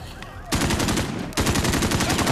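Rapid automatic gunfire rings out in the Modern Warfare video game: a brief pause, then two long, loud bursts of fast, evenly spaced shots at close range.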